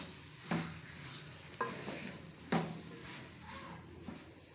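Cabbage and vegetables sizzling in a pan with three sharp scraping stirs at a steady pace, close by, no voices.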